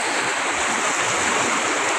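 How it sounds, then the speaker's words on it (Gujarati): Loud, continuous rush of water flowing and churning nearby from one tank to the next at a Narmada water RO treatment plant, a steady roar with no pauses or voices. "આ પાણી એક ટેન્કમાંથી બીજી ટેન્કમાં ને બીજી ટેન્કમાંથી ત્રીજી ટેન્કમાં આ રીતે પાણી બધે"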